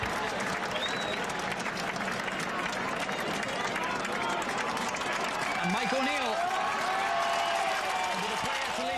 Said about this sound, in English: to leave the field, to superb applause from this crowd